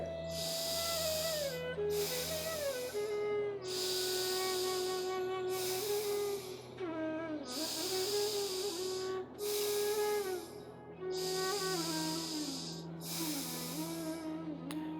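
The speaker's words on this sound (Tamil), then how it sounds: "இடது நாசியில் மெதுவாக மூச்சை உள்ளெழுத்து மெதுவாக மூச்சை வெளியே விடுங்க" Slow alternate-nostril breathing in nadi shuddhi yoga, with long airy inhales and exhales through one nostril repeating in a steady rhythm, close and clear over a sustained droning background.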